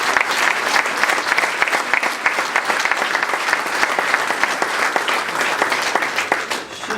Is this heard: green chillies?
no